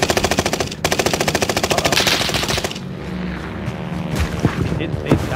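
Rapid automatic gunfire with heavy recoil in a first-person shooter video game, loud bursts of evenly spaced shots for a few seconds, then scattered single shots while voices talk over the action.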